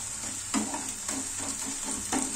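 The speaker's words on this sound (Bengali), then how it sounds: "পেঁয়াজ, আদা কুচি আর রসুন কুচি আর একবার খুব ভালো করে ভেজে নিলাম।" Chopped onion, ginger and garlic fry in hot oil, a soft steady sizzle punctuated by four brief scraping stirs of a spatula at roughly half-second intervals, close and fairly quiet.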